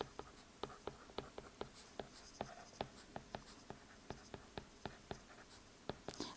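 Pen writing out a trigonometry solution on paper, a fast, regular series of sharp scratchy strokes and taps, close and quiet, continuing without pause.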